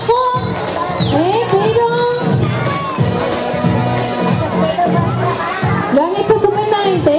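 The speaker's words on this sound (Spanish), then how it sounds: "aplauso fuerte" A lively carnival crowd in Bahia cheers and shouts continuously, with children's voices rising above the noise, loud and close throughout.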